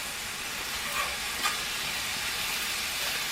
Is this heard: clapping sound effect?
no